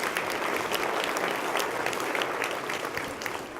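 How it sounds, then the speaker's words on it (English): Steady applause from a conference summit audience at a keynote, dense sustained clapping throughout, close and fairly loud with no voices on top. "Alina, yes, round of applause."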